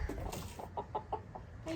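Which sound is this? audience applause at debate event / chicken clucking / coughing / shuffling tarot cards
chicken clucking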